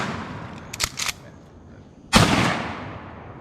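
Gunshots fired at a hog in a Florida swamp: two sharp cracks close together, then a louder blast with a long fading echo, heard close outdoors.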